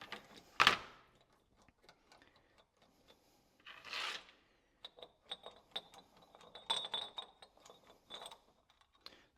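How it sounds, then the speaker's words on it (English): Scattered socket clicks and metallic rattles as a 14 mm socket removes the carburetor bowl on a Generac generator, close and intermittent with a louder clack near the start and quiet gaps between. "Taking off the bowl of the carburetor right now."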